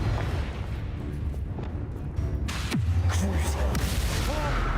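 A Confringo blast spell bursts with a booming explosion in Hogwarts Legacy, landing mid-fight amid dense combat noise and scattered battle effects.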